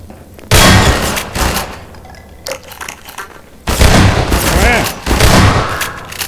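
Gunfire from a weapon in the video game Half-Life 2: several loud, close bursts of shots with booming impacts, separated by quieter stretches of game ambience.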